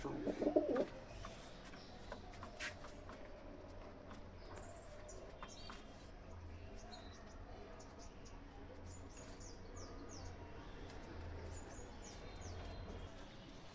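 Soft, low coos of Teddy pigeons sound at a moderate distance against quiet background noise, with a brief louder burst near the start.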